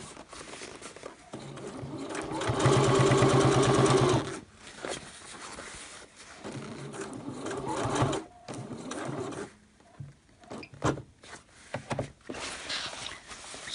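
A domestic sewing machine stitches a softshell jacket, stopping with the needle down to turn the fabric. One long, loud run of rapid stitching is followed by shorter, quieter bursts and handling noises.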